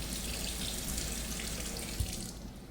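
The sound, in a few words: tap water running to rinse a brush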